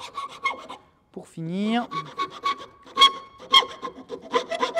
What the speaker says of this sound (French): Maintenant, je peux prendre la lime.